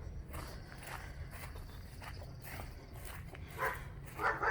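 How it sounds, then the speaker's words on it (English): A neighbor's dog barks in a backyard garden with raised beds, a series of moderately distant barks and yips, growing louder toward the end, alongside faint footsteps. "Neighbor's dog's barking again."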